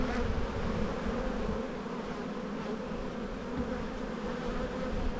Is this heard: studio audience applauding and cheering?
no